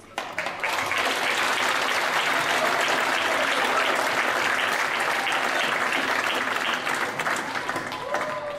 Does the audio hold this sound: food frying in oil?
no